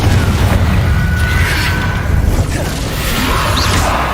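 Confringo fire-blast spell explosions from the Hogwarts Legacy video game, a run of dense low booms and bursts rolling together with little pause, loud and close throughout.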